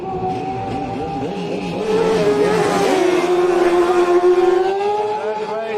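A PCN Racing Yamaha race motorcycle at the Manx Grand Prix Senior Race howls past, its engine note swelling, sweeping in pitch and fading as it goes by, loud and fairly close.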